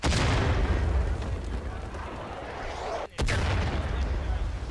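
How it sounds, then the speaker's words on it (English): Artillery bombardment in the War of Rights battle game: a continuous heavy barrage of deep booms and rumbling blasts, loud and dense throughout, with a brief drop near the end before it resumes. "We're under bombardment."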